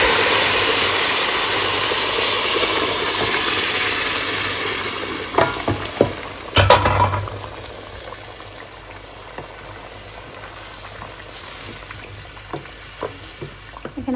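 Rice frying in ghee with cooked meat stirred in, a steady broadband sizzle that eases after a few seconds, broken by sharp scraping clacks of a utensil against the pot; no voices.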